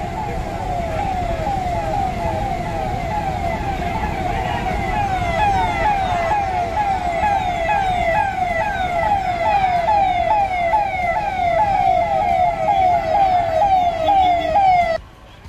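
Police-style sirens wail continuously from the Jharkhand Chief Minister's motorcade, loud and close, with vehicle engine noise underneath until the sirens cut off abruptly near the end.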